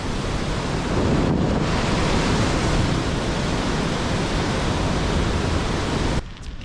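A waterfall beside a rough spring roadway gives a loud, steady, broadband roar that fills the whole stretch, mixed with wind buffeting, with a brief dip just before the end.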